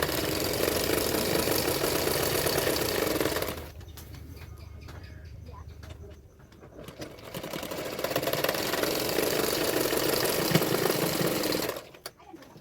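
A sewing machine stitches a 42-size double katori blouse along marked lines, its steady mechanical whirr running in long bursts with a quiet pause in between, then resuming.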